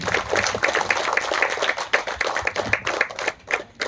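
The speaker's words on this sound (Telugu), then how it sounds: "ఒకసారి గట్టి క్లాప్స్ అండి ఆవిడ." A crowd claps steadily for several seconds at a meditation centre anniversary event, a dense patter of many hands that thins out toward the end.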